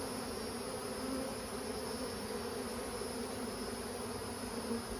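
Feral honey bees swarm around a giant cactus, producing a dense, continuous buzzing hum that stays steady and close throughout.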